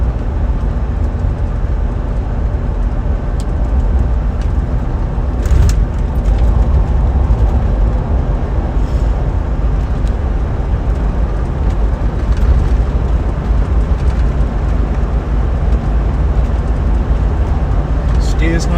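A 2000 Range Rover P38 Holland and Holland on the move gives a loud, steady wash of engine and road rumble throughout, with only slight swells and no clear breaks.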